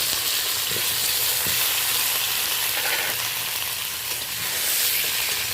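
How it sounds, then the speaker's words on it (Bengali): Half-ripe mango frying and sizzling in a pan, a continuous loud hiss close by, with occasional soft stirring scrapes. "এই পর্যায়ে আমি আধা পাকা আমটা একটু ভেজে নেব।"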